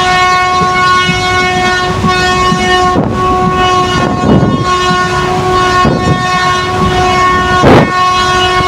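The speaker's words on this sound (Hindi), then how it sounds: "पूरा हॉर्न बजाते जा रही है ये ट्रेन" A locomotive horn on the Satluj Express blares continuously and loud, close by from just behind the engine, over the rumble and periodic clacking of a moving ICF-coach train between New Morinda and Mohali.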